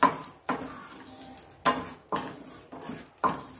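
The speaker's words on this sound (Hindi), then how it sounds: "अब इसी बर्तन में हम खसखस गर्म करेंगे" Poppy seeds are stirred in a metal cooking pan as they heat, giving about six sharp scraping, clinking strokes in an uneven rhythm, each fading quickly and close to the ear.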